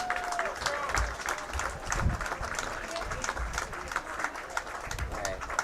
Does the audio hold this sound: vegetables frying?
no